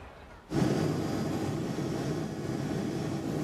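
A helicopter hovering above the Macy's Thanksgiving Day Parade route over Central Park West in New York, its loud, steady rotor and engine roar cutting in suddenly and holding constant to the end.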